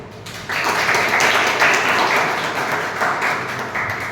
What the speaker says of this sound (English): Can you please clap?